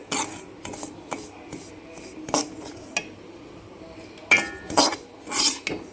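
Semolina dry-roasted in a pan for rava kolukattai, stirred with rasping scrapes: irregular strokes of a spatula across the pan, some quick and light, others longer and louder, close by with no talking.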